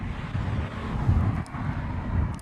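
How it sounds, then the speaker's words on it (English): An Airbus A321 airliner departing from the Reef runway at Honolulu, a steady distant roar of jet engines with wind buffeting the microphone. "we should have that 321 that's heading off to Portland depart off the Reef runway"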